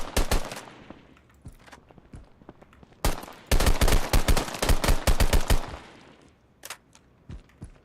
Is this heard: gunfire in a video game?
yes